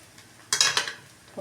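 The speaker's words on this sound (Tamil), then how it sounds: "உப்பு போட்டு நல்லா மிக்ஸ் பண்ணி விடணுங்க" Stirring salt into fried rice in a pan, a short loud burst of utensil scraping and clattering against the metal, fading out, then a faint clink.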